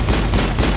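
Rapid, dense gunfire crackles continuously in a loud, harsh burst, like an automatic weapon firing in the video game Mass Effect.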